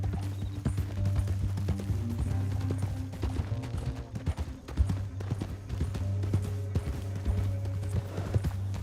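Rapid, continuous hoofbeats of galloping horses in Red Dead Redemption 2 pound beneath a low droning music bed, steady and close throughout.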